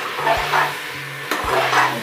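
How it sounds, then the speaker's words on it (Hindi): Bottle gourd is stirred through hot oil in a pan, giving a steady sizzle. A spoon scrapes and knocks against the metal a few times in quick sweeps. "ये लौकी डाल के हम इसे भून लेंगे अच्छी तरीके से।"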